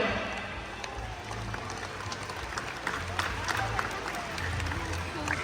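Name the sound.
crowd applauding killer whales at SeaWorld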